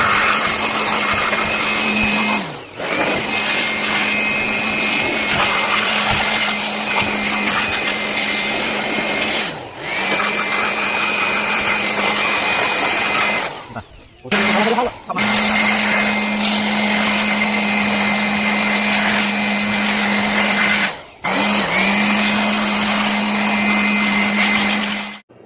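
An electric blower roars loudly and steadily while cleaning dust from a neglected desktop computer, its high whine cutting out briefly several times and dipping as the nozzle moves, then resuming.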